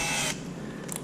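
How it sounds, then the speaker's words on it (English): A brief high-pitched whir of a power drill boring into a Nissan 300ZX firewall for brake hardline installation spins for a moment, then cuts off, leaving a quiet room tone. "we'll start drilling on my firewall"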